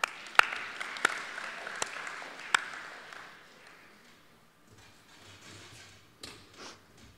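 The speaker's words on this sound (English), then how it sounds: "Come on, clap them up" Scattered clapping from a small audience at a graduation rehearsal, a thin wash of applause punctuated by a few sharp, loud claps nearby, fading out after about three seconds into quiet room noise and faint movement.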